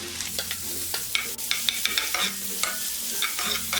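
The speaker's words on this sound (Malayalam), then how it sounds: "ഈ സവോള ചോപ്പ് ചെയ്തത് ഇതിലേക്ക് ഇട്ടിട്ട് വഴറ്റി കൊടുക്കാം" Chopped onions sauté in butter in a cast iron pan, a close, continuous sizzle broken by frequent spoon clatters and scrapes against the iron. There is no talking.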